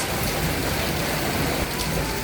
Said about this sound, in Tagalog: Mas malakas ang hampas ng hangin dito sa taas